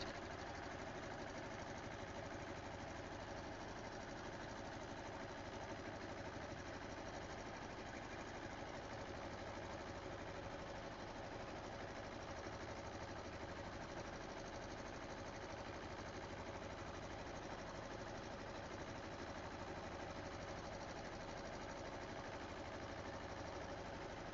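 A sewing machine runs steadily, stitching fabric for a Nightmare Before Christmas pillow, a constant close mechanical whir and rapid clatter that continues unbroken throughout with no talk.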